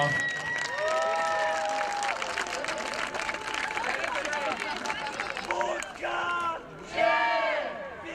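Crowd cheering and applauding at an American football game between the Lowlanders Białystok and Zagłębie Steelers, loud sustained roar with shouts, a commentator talking over it.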